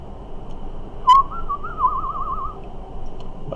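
A person whistles in imitation of birds, a single warbling, trilling tune held for about a second and a half after a brief sharp onset, fairly close and alone over a low background hiss.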